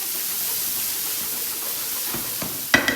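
Onions frying in hot olive oil for an asparagus, mushroom and taleggio risotto give a steady, soft sizzle that holds evenly for about three seconds, ending in a brief louder clatter.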